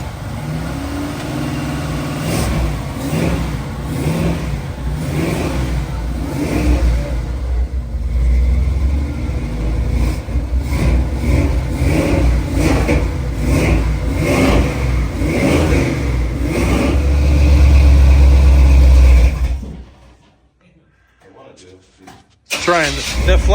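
An old Chevrolet Camaro or Monte Carlo engine warming up, rumbling loudly and revving in repeated surges, then cutting out briefly before firing again, with someone talking over it.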